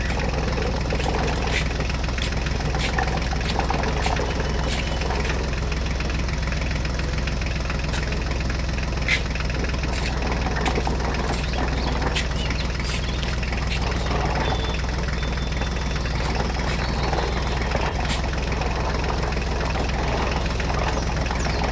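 Mini tractor engine running steadily at idle, a continuous low mechanical hum with faint knocking and vibration that stays even and close throughout, with no speech.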